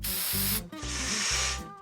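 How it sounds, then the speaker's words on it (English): Bowling alley shoe spray hisses from an aerosol can in two long, steady bursts close to the microphone, broken by a brief pause, with a low background murmur underneath. "them shoe spray fumes made me all goofy in my head"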